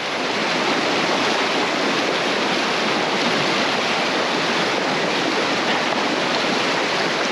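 Steady, loud rush of Rock Creek flowing in the Sierra Nevada fills the whole stretch without pause, a dense broadband roar like a fast creek close by.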